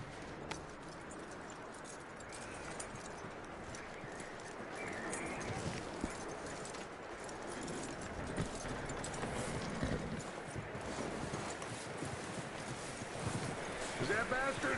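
Horse hooves clip-clop steadily at a walking pace in Red Dead Redemption 2, set in cold weather, continuing throughout under a constant windy ambient bed with voices talking over it.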